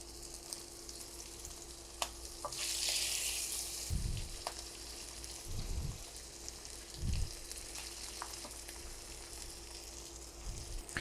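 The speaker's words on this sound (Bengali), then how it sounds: "তেলটা গরম হয়ে গেছে, এখন মাছগুলো দিয়ে দিচ্ছি।" Hilsa fish fry in plenty of hot mustard oil on a griddle, a steady close sizzle broken by a few bursts of louder spitting and some thumps of stirring.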